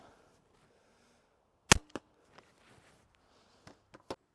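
A PD5 pistol crossbow fires a Nika archery bolt with one sharp, loud snap up close, followed by a few lighter clicks and knocks in an otherwise quiet setting.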